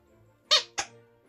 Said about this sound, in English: it says textured plush squeaking cow dog toy